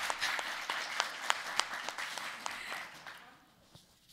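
Audience applause welcoming Professor Morin at a university panel on polarisation and free expression, a burst of scattered claps that thins out and fades toward the end.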